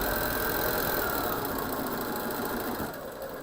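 A sewing machine runs a steady, close, unbroken whir while stitching a Hunter's Star quilt block, holding an even level for the whole stretch with no talk over it.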